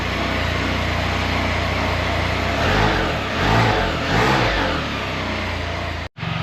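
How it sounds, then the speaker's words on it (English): A car engine with its factory exhaust, before a muffler delete, runs loud and near with a steady drone and a couple of brief swells of revving midway, then cuts off sharply near the end. "let it idle for 10 minutes and we'll see how it sounds after that. This is factory."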